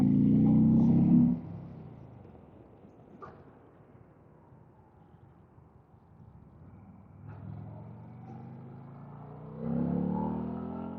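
Car with a newly tuned exhaust revs up once at the start, drops to a low distant rumble, then builds again in two rising pulls toward the end, fairly quiet overall and with no voices.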